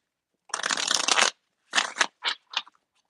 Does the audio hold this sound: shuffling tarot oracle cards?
yes